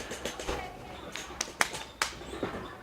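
On a trampoline, a handful of quick hand claps crack out in a fast burst during a single jump, light and slightly distant, with a voice talking over them.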